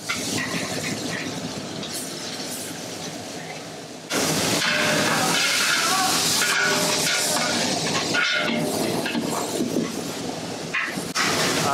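Chopped onions fry in hot oil for a marriage-style Karnataka sambar, a loud steady sizzling hiss that jumps louder as more go in, with a person speaking over it.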